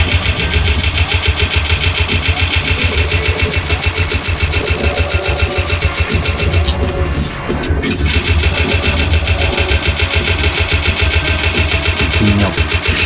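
A machine gun in the Doom mod Golden Souls 2 fires nonstop in rapid, rattling bursts. The loud, dense hammering runs almost the whole time, with only a brief gap midway.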